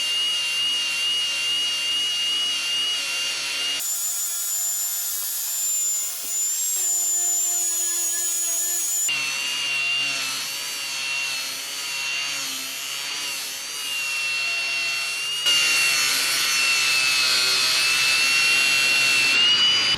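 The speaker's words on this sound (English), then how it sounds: "Then we got the battery one with our soft, more of a finishing metal grinding wheel, and that smooths everything out nicely." A battery grinder with a soft finishing metal grinding wheel smooths steel on a snow plow being prepared for paint, producing a loud, close, continuous high whine that rises and falls as pressure changes, with no talking.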